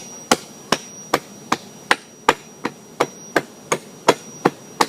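Hammer blows breaking ceramic pieces under a mattress cover for a mosaic, about a dozen sharp, loud strikes in an even, steady rhythm, each dropping quickly back to quiet.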